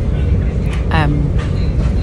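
A constant low rumble fills the interior of a moving train carriage, with people talking over the steady noise.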